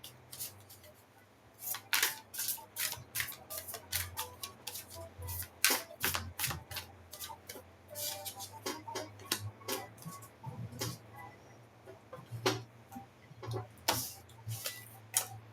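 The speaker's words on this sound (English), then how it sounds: "I shuffled the deck and the Covenant come out." Rapid papery riffling and flicking of tarot cards being shuffled, a quick clattering flutter in bursts over a low steady hum, with no voices.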